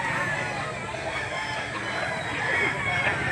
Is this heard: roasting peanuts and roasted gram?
no